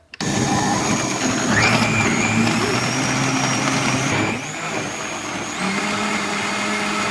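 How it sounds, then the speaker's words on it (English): A powerful high-powered blender whirs loudly and continuously, its motor pitch shifting slightly partway through as it runs alone. "It's a really awesome, powerful blender."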